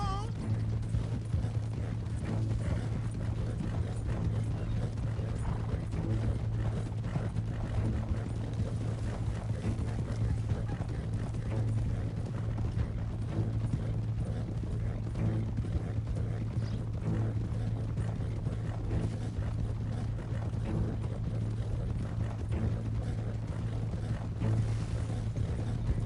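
A horse galloping in the video game Red Dead Redemption 2, with steady, continuous rhythmic hoof clip-clop and some mechanical clatter running through the whole stretch at a constant level.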